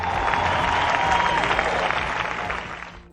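A crowd of university youth gives the Pope a standing ovation at a World Youth Day gathering, steady dense applause filling the space for about three seconds before it begins to fade.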